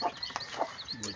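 Gamefowl chickens of a Sweater, Albany and Butcher cross breed, with Moonwalker bloodline, cluck and call in short bursts at moderate distance, with faint background noise.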